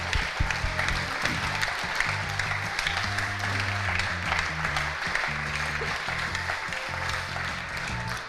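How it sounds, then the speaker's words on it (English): Conference audience at a community gathering applauding steadily, a continuous wash of clapping heard alongside rhythmic low music pulsing underneath throughout. "So huge round of applause for everybody who's here and for making this possible."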